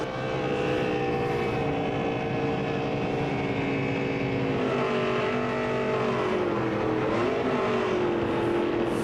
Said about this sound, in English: Let's do the burnout while we're climbing out of the car.